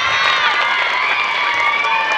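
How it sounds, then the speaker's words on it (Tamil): An audience at a school annual day celebration cheers and claps loudly, with children's shouts forming a bright, continuous wash of crowd noise throughout. "எல்லாரும் ஒரு முறை ஜோராக அந்த ஸ்கூலுக்கு கைத்தட்டுங்க பாப்பா"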